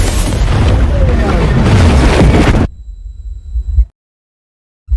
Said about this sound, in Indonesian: tubuh Newt meledak karena terlalu banyak menelan kapsul itu